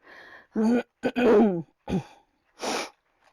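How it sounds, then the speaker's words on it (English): A person with allergies clears their throat several times in short, close, raspy bursts separated by brief pauses, followed by a breathy exhale near the end. "That's why I've got all this clearing my throat stuff."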